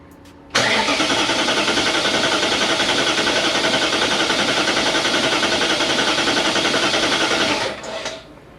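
A BMW E39 M5 V8, just back together after a rod bearing replacement, cranks steadily for several seconds with a fast, even whirring rhythm, loud and close, then cuts off abruptly without catching.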